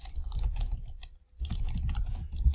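Keys clatter on a computer keyboard in fast, close bursts, with a brief pause in the middle and no voices.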